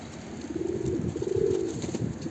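Pet pigeons coo close by in a low, soft, rolling burble that swells and fades, with a faint hiss of background noise.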